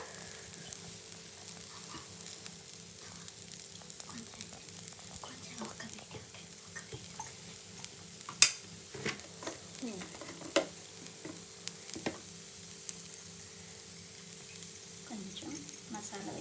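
Ragi dosa with onion and a light coat of oil frying on a hot pan, giving a soft, steady sizzle with a few scraping clicks from a utensil, faint and even throughout.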